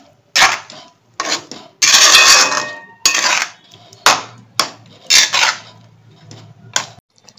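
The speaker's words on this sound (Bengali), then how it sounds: "এরপরে খুব ভালো করে নেড়ে নিই।" A spoon scrapes and clanks against a pot while coriander chicken is stirred: irregular bursts of metallic scraping, close and loud, separated by brief quiet gaps.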